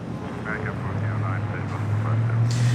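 A Qantas cargo Boeing 777 taxiing at LAX, a steady low jet engine rumble and whine that grows slightly louder toward the end, with someone talking over it.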